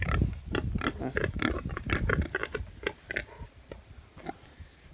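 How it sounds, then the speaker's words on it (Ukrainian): Pigs on a Ukrainian village farm grunt and snuffle close by, a rapid run of short rough grunts and sniffs, fairly quiet and alone. "Подобаються такі поросята теж."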